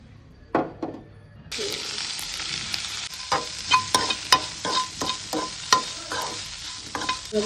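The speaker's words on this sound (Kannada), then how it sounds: "ಸ್ವಲ್ಪ ಎಲ್ಲ ಫ್ರೈ ಆಗಲಿ." Chilli powder, coriander powder and salt fry in hot oil in a pan. A close, steady sizzle begins after a moment of quiet, and rhythmic scraping stirs cut through it.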